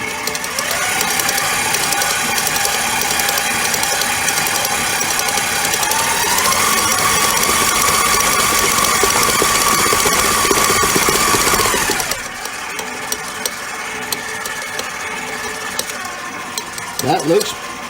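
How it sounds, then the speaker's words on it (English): An electric mixer whirs loud and close with a steady, rattling mechanical drone as it beats thick brownie batter. It cuts off abruptly around twelve seconds, leaving quiet clinks. "Turn my mixer up."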